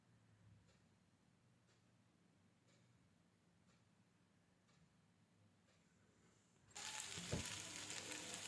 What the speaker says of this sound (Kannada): ನಂತರ ಇದಕ್ಕೆ ಸಣ್ಣಗೆ ಹೆಚ್ಚಿದ ಆಲೂಗೆಡ್ಡೆಯನ್ನು ಹಾಕಿ ಈರುಳ್ಳಿ ಜೊತೆ ಚೆನ್ನಾಗಿ ಫ್ರೈ ಮಾಡ್ಕೊಳ್ಳಿ